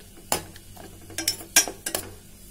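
Torn bread being mixed into milk in a bowl for bread pudding, heard as a few scattered clinks and scrapes of a utensil against the bowl, close by and fairly quiet.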